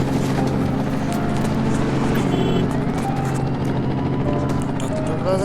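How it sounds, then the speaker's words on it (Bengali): A police helicopter in the Indian Bike Driving 3D game thrums with a steady rotor and engine drone, loud and continuous, with other game effects over it. "3 স্টারের পুলিশ লাগালে তোমাদের সামনে চলে আসবে পুলিশ হেলিকপ্টার।"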